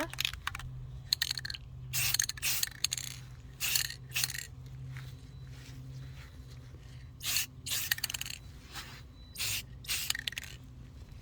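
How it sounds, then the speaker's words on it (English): Repeated short hissing bursts of an aerosol sealer spray can, several quick blasts with brief pauses between them, close by and fairly quiet, outdoors. "I brought this piece outside to give it a good spray with the sealer."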